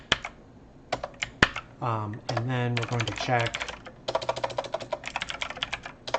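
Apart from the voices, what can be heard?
typing on a computer keyboard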